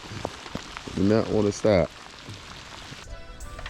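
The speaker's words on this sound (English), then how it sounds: "It is raining." Rain falls outdoors on a fishing trip, a steady soft hiss of drops spread across the background while someone speaks briefly over it.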